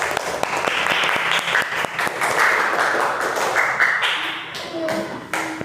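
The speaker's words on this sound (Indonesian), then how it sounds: "Tepuk tangan untuk kalian semua." Students in a classroom lesson get a burst of applause: brisk, continuous clapping from several people with a few sharper taps, while a voice talks underneath.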